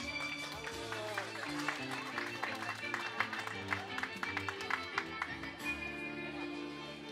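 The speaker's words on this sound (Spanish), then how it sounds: "Un aplauso para ella." At a quinceañera party, guests clap steadily for the birthday girl under loud party music, the claps a busy patter lasting throughout.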